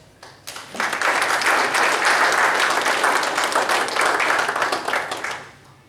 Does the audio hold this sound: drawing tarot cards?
no